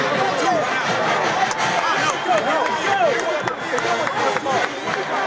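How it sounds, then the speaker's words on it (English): Stadium crowd at an Alabama college football game at Jordan-Hare Stadium, a dense, continuous roar of cheering and babble with scattered shouts and whistles, loud and close. "The crowd is into it."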